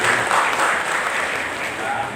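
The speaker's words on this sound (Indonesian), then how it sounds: "Tepuk tangan untuk Aisyah" A crowd applauds steadily for the Aisyiyah women's organisation at a Sunday-morning Islamic study gathering marking a Muhammadiyah branch anniversary, a dense, even wash of clapping that holds through the whole stretch.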